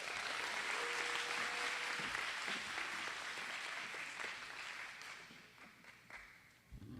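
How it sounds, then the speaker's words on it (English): A graduation ceremony audience claps steadily for a school figure, a dense, sustained round of applause that gradually thins toward the end, with no speech over it. "give her a round of applause"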